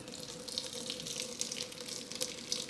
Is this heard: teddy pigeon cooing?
no